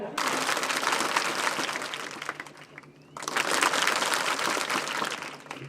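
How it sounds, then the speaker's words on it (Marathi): At a school get-together, students clap loudly in a dense burst that stops briefly for a moment of near quiet before the clapping resumes at full strength. "मी जेव्हा हात असं वर करेन तुम्ही मोठ्याने टाळ्या वाजवायच्या."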